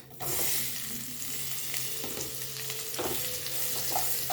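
Cauliflower sizzles in a hot pan with spices being roasted, a soft steady crackle and hiss with occasional scrapes of stirring, fairly quiet and without speech.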